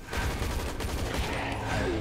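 Rapid, dense gunfire from the video game Hazard Ops fills the whole stretch, a loud continuous fusillade of overlapping shots with no pauses.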